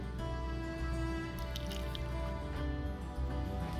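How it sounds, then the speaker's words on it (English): Fresh carrot, celery and parsley juice from a masticating juicer is poured into a glass, a soft steady liquid flow with faint squishy drips, close and low in level with no talking. "Pour it."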